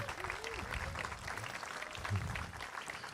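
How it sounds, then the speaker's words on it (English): An audience at an 8th grade recognition ceremony applauds students and teachers, producing a soft, steady patter of clapping heard from a distance with a faint murmur of voices underneath. "Let's have another round of applause for our students and for our amazing teachers"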